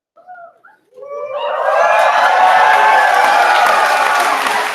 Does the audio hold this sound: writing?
no